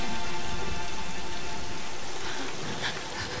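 Steady rain pours in the Tomb Raider game, a dense, even hiss of drops hitting surfaces that runs unbroken and fairly loud, easing slightly near the end.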